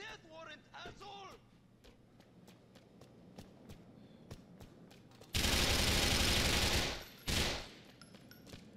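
Gunfire in Grand Theft Auto IV: faint scattered taps and clicks give way to two loud bursts of rapid automatic fire, the first sustained for about two seconds and the second shorter, with game voices heard earlier.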